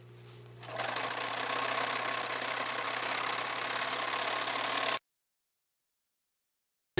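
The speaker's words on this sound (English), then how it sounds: "My tabletop serger serged it real tight." A tabletop serger sews the hem of stretchy jeans, starting up with a rapid, even chatter that pulses evenly, loud and close, for about four seconds. Then it cuts off into silence.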